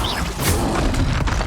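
A fire spell exploding in the video game Hogwarts Legacy, a loud, rumbling burst with whooshing crackle that holds for the whole moment.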